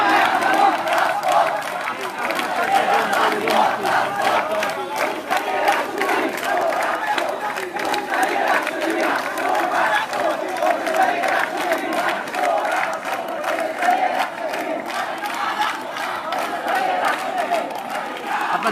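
Students at Rajshahi University shout rival slogans outside the treasurer's office during a protest, a loud and continuous crowd roar with rhythmic chanting that carries on without a break.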